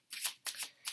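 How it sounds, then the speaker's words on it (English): Three quick bursts of a tarot deck being riffled and shuffled by hand, close and crisp, each lasting about a third of a second with short pauses between, no voices. "I'm just going to shuffle as I am"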